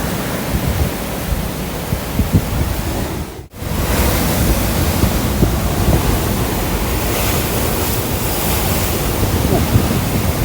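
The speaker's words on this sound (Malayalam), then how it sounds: "ഡേഞ്ചറാണ് കേട്ടോ തിരമാല നല്ല കൂടിക്കൊണ്ട് വരികയാണ്" Ocean surf breaks steadily on a shore where the sea is rising and getting rough, a loud continuous roar of crashing waves with a brief dropout partway through and no voices.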